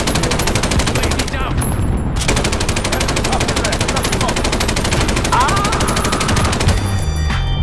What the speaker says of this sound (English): Heavy machine gun!